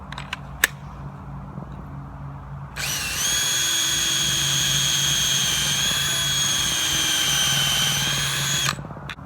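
A power drill bores pilot holes for screws in wood boards for a raised garden bed, running in one continuous high whine for about six seconds after a few quiet handling knocks.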